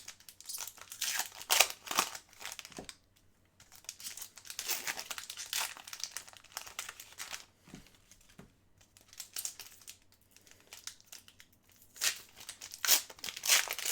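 Upper Deck The Cup hockey card packs being ripped open up close, bursts of crinkling foil wrapper and tearing in uneven clusters with short quiet gaps between, no talk.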